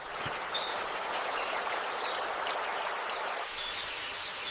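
Steady rain hisses through a rainforest canopy, an even wash of falling water with faint bird calls dotted over it, continuous and moderately distant with no voices.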